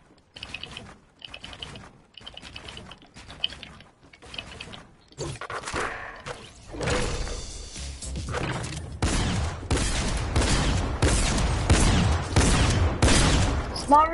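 Rapid mechanical clicks and ratcheting from the new tactical shotgun in Fortnite, starting as sparse reload-like clacks, then building into dense, loud repeated blasts and mechanism noise in the second half.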